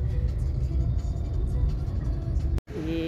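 Steady road traffic rumble from a jam of two- and four-wheelers in Vadodara, with continuous engine drone, a short dropout near the end and then a passing vehicle tone.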